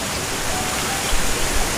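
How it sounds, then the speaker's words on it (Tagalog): Bukal Falls at Mt. Banahaw rushes as a loud, broad, steady roar of falling water close by, with a few brief splashes and no talking. "At ito yung Bukal Falls."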